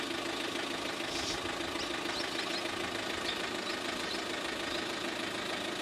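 A 2007 Renault Megane 1.9 dCi diesel idles with a steady close knocking clatter, even and continuous, with no talking.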